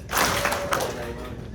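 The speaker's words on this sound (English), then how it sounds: "You're going to give it one clap." A graduation audience at a Corona school ceremony claps once in unison, a short burst of applause that quickly fades under a voice speaking.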